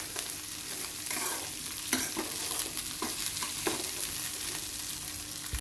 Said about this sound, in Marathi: कापून घेतलेली बारीक भेंडी ॲड करूया. भेंडी छान परतून घेऊ.